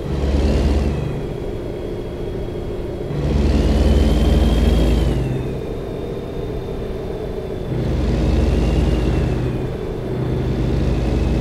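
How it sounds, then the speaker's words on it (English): Truck engine in American Truck Simulator surging in repeated waves as it accelerates, loud low rumble swelling and easing three times with a rising whine, no talk. "truck picks up speed quickly"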